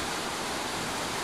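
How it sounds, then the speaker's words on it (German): A rushing waterfall in the Norwegian fjord country near Sunndal, heard as a steady, dense roar of falling water that holds at an even level for the whole stretch, with no voices. "Wasserfälle."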